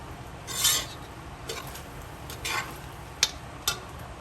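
Lamb biryani with scallions mixed in a pot, heard as several separate scraping, rustling strokes of a spoon through the rice with a couple of short metallic clicks, close and without speech.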